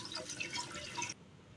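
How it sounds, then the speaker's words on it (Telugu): Water pours into a cooking pot for chicken biryani, a bubbly splashing stream that runs steadily and then cuts off abruptly, leaving near-silence. "ఇప్పుడు వాటర్ వేసుకోవాలి"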